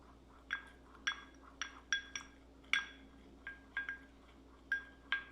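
A utensil stirring an oil blend in a glass container, giving about a dozen bright, light clinks at an irregular pace, quiet and close with nothing else heard.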